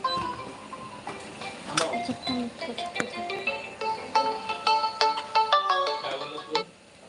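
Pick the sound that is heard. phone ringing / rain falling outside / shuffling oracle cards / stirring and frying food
phone ringing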